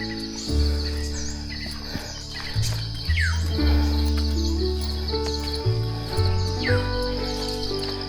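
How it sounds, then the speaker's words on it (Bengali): Birds chirp on a forested hillside in Bandarban, Bangladesh: light, scattered tweets, some near and some farther off, layered over a steady musical background. "কিচিরমিচির আওয়াজ শোনা যাইতেছে।"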